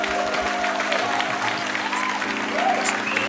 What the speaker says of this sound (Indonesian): Tepuk tangan dulu udah.